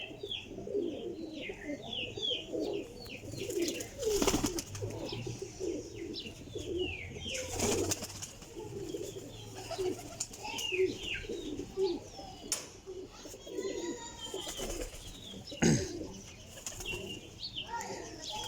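Teddy pigeons coo in low, repeated throaty calls close by, with occasional wing flaps and chirps from other birds and a few sharp knocks throughout.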